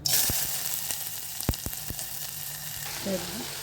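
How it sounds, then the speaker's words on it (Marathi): Onion frying in hot oil for a home-cooked tempering, a steady close sizzle broken by several sharp crackles and pops, with no talking. "तेल गरम करत ठेवलेलं आहे, त्यात कांदा घालणार आहे"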